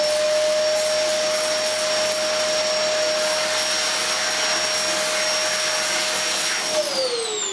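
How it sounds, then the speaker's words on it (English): An Electrolux Sanitaire professional upright vacuum cleaner runs with suction through its hose on the lowest setting, a loud, steady close whine and rushing air that holds constant throughout, then dips in pitch briefly near the end. "I'm just going to judge the suction of the hose."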